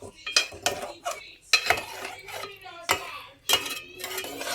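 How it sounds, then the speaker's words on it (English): Paaya (trotters) is stirred in a pot, with several distinct bursts of metal spoon scraping and clinking against the pan, set apart by short pauses. "Give it a good mix now."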